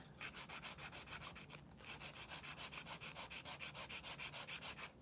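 A nail being shaped with the coarse side of a nail file, giving fast rhythmic rasping strokes, close and even, with a brief pause partway through and no voices.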